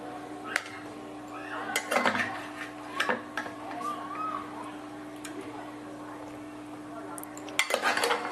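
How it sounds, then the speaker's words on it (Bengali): Cooked jackfruit pieces are lifted from a pressure cooker onto a plate, giving scattered metallic clinks and scrapes of utensil on metal, close and moderately loud, over a low steady hum. "এঁচোড়গুলো আমি কুকার থেকে একটা থালার মধ্যে নিয়ে নিচ্ছি।"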